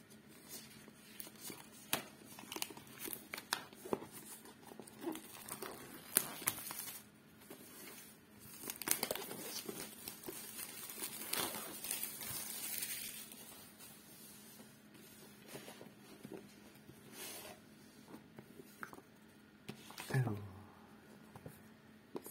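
Cardboard and plastic packaging of a Pokémon Go Elite Trainer Box rustles, scrapes and tears at close range in irregular bursts, with crinkling and handling noises throughout.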